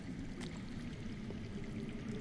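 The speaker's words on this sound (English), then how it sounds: "I hear water. From underground." Underground water flowing in the Game of Thrones video game, a faint, steady pouring and streaming wash, continuous and distant with no voices.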